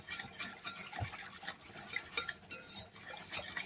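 A utensil stirs mushroom sauce for spaghetti in a pan, giving soft irregular scraping and light clinks at close range, fairly quiet with no voices.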